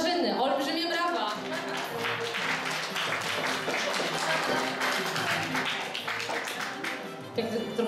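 Audience applause fills a celebratory gala, sustained dense clapping that keeps up steadily for several seconds, mixed with cheering voices and some music underneath.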